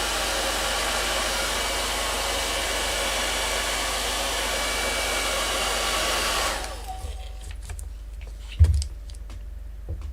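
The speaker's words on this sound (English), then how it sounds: "Hair dryers, really useful." A hair dryer blows loudly and steadily at close range for several seconds, then shuts off abruptly, leaving a quiet room with a few small clicks and a brief thump.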